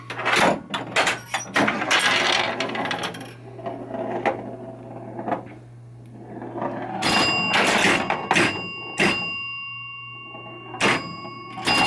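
A 1962 Williams Vagabond pinball machine delivers sharp knocker strikes and mechanical clacks over a steady electrical hum, with bursts of relay and solenoid clatter close by and no voices.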